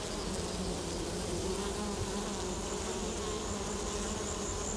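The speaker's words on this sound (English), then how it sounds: "The native bee doesn't have a sting, and he looks like a little fly, a little bush fly just kicking around the place." Native stingless bees, small and fly-like, hum continuously around a hive in rocks in the bush near Doomadgee, a steady close buzzing drone with no voices.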